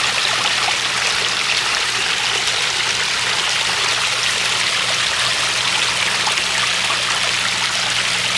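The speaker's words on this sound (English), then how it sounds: "So we've got waterfall and stream coming into this 2-foot pond." Waterfall and stream flowing into a 2-foot garden pond in a subtropical food forest in the Arizona desert, a steady close splashing rush and trickle with no talk.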